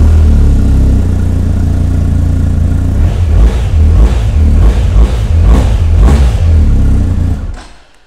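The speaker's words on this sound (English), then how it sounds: "You get that stonking 1250 boxer engine, and this one has got the full 3-box alloy luggage. We'll give it a quick start up so you can hear it." A 2020 BMW R1250GS Adventure TE with its 1250 boxer engine runs loud and close, holding a deep steady idle before several throttle blips rev it up and down, then the sound drops away at the end.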